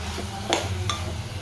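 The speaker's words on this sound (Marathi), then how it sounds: "आता फक्त थोडंसं परतून घेते आणि राईस त्याच्यामध्ये टाकायचं." Vegetables for pulao are sautéed and stirred in a pan, giving two sharp metallic clinks of a utensil against the pan over a low background hum, close and brief.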